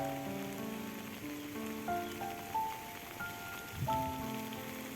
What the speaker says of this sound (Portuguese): Eu vou descendo novamente, que está chovendo bastante.